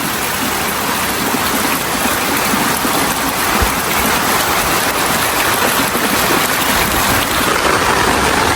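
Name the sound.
heavy rain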